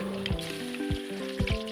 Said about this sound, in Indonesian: kita goreng bahan makan lainnya seperti menggoreng tahu,